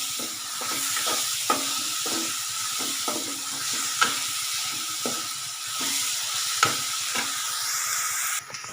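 Sprouted mung beans frying in a pan with tomato and garlic paste, a steady sizzle broken by regular clacks of a spoon stirring about once a second, close and moderately loud.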